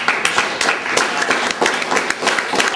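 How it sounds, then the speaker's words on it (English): An audience at a Boat to Gaza report-back gathering bursts into brief, dense applause, a lively patter of many hands clapping at close range throughout. "Yeah, that's worth some applause."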